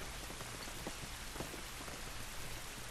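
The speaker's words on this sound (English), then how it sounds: "This rain ain't gonna do us any good." Steady rain falling in The Last of Us Remastered, a soft, even hiss of raindrops hitting surfaces, faint and continuous with no voices.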